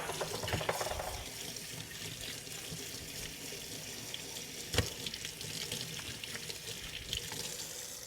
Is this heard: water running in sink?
yes